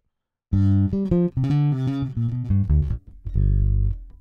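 A clean, dry DI electric bass, a Precision Bass virtual instrument, plays a short melodic line of plucked notes, close and loud, ending on a sustained low note.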